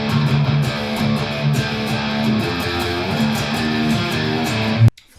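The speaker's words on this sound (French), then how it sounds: "Franchement, c'est vraiment top en distorsion." A PRS Mark Holcomb signature electric guitar played through a distorted tone, loud sustained chords and riffing with steady rhythmic attacks, ending abruptly in near silence.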